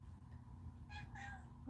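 A pet cat meows twice indoors, the cries rising and falling close by over a low steady room hum, with no talking.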